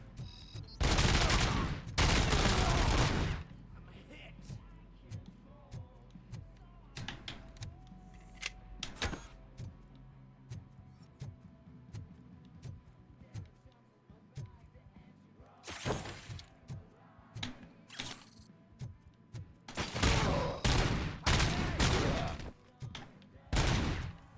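Automatic gunfire in a video game: several loud, dense bursts of rapid shots, separated by quieter stretches of scattered single pops and mechanical clicks.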